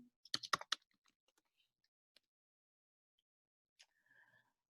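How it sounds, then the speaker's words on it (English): Brief burst of quick keystrokes on a computer keyboard, close and fairly quiet, followed by a few scattered single taps and a short final click amid near silence. "Sorry, I just need to type in."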